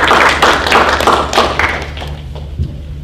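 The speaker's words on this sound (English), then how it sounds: "give yourselves a round of applause" Audience at a National Junior Honor Society induction ceremony applauding loudly and close by for the new members, then thinning to a few scattered claps and a thump.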